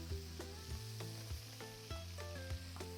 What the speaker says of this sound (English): You can see I'm getting that nice sear on the scallop.